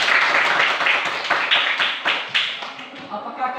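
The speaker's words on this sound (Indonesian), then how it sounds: "Oke, tepuk tangan." A classroom of students claps in a quick, uneven series of sharp hand claps, close and fairly loud, tapering at the end.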